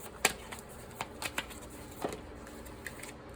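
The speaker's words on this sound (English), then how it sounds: "just kind of do a quick little shuffle on camera" Soft papery riffles and light taps of tarot cards being shuffled by hand, a few quick bursts spaced out over a quiet background.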